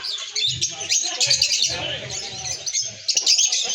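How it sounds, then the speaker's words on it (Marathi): Many small birds chirp and tweet continuously at close to moderate distance at a resort near Panshet Dam, a busy overlapping chorus with a low rhythmic hum underneath. "इकडे भरपूर पक्ष्यांचा एकदम किलबिलाट चालू आहे"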